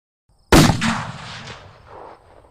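A single sharp gunshot cracks loudly after a brief silence, followed by a rolling echo that fades over about two seconds.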